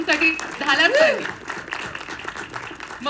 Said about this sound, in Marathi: एकदा जोरदार टाळ्या आऊंसाठी झाल्याच पाहिजे